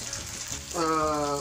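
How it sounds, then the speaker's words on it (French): Homemade spring rolls (nems) dropped into hot oil, a steady close frying sizzle that swells suddenly as they go in and then holds loud and continuous. "Mon huile est chaude. Je dépose mes nems."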